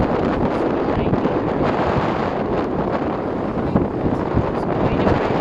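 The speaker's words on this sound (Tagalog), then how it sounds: "Malakas ng hangin." Strong wind gusts buffet the microphone in a constant, loud roar with broadband rumble throughout, steady with brief surges, no clear speech over it.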